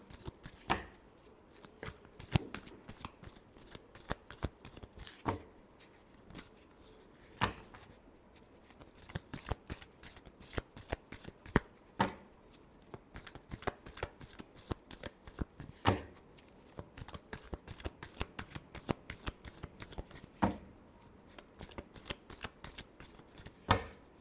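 Tarot cards being shuffled by hand, a long run of close, crisp riffling and slapping bursts with short pauses between, repeating for over twenty seconds with no talk.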